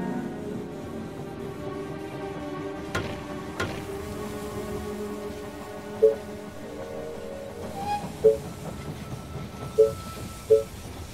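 Rumbling train arriving at a station in the video game They Are Billions, a steady low mechanical drone with a few sharp clanks and short tonal chimes near the end.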